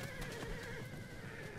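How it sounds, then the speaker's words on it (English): Horses in the Total War: Rome II battle game give a brief neigh over battlefield noise and faint hoof clatter, moderately quiet. "And here are his horses on the other flank."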